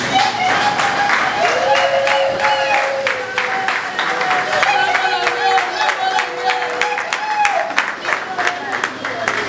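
A crowd at a reception for a Congolese musician claps steadily and loudly in irregular bursts, while a voice and tonal sounds carry over the applause.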